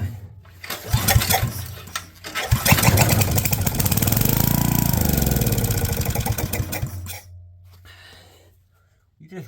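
An abandoned junkyard machine's small engine, running on its carburetor, sputters and catches, then revs up loud and close and runs steadily before cutting off, with brief talk mixed in.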